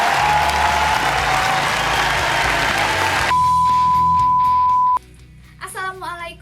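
A dense burst of audience applause for a young woman performer at a folk poetry recitation rings loud and continuous for about three seconds, then cuts abruptly to a steady tone and a brief voice.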